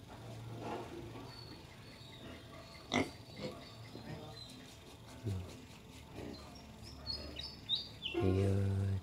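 Wild boar kept for breeding on a farm in Tay Ninh, Vietnam, with scattered snorts and grunts, a louder squeal at the end, chirping birds, and someone talking over the farmyard noise.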